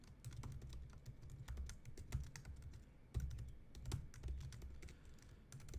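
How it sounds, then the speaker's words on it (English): Code being typed on a computer keyboard, with rapid, irregular key clicks and a few sharper keystrokes in steady bursts, close up and alone with no talking. "And let's type that in."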